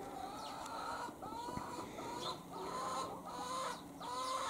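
Backyard chickens cluck and squabble among themselves, several hens calling over one another in a continuous, moderately close chatter with occasional sharper squawks.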